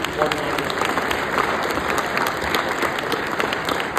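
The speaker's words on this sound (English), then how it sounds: "May I please have one last round of applause for our 2023 award winners" A crowd at a 2023 awards ceremony gives a final round of applause for the award winners: dense, sustained clapping from many hands, with faint voices mixed in.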